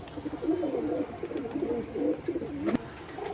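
Pigeons of mixed fancy breeds at a pigeon sale cooing, a low rolling coo repeated in close succession over faint background noise, with a brief sharp click near the end; no talking.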